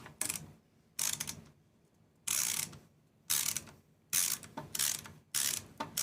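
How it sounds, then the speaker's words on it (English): A hand screwdriver ratchets as screws are backed out of an electronic device during a teardown, with six bursts of rapid clicking separated by short pauses, close and fairly loud. "now we're gonna take off the rest of these screws"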